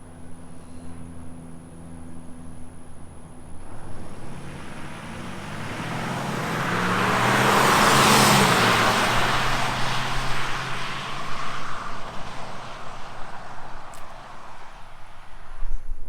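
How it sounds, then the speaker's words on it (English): A new Ford and a new Dodge drag race down a closed street. The engine roar builds steadily to a loud peak midway as they pass, then falls back to a steady, more distant drone. "We're about to run a new Ford to a new Dodge, so drag race going down"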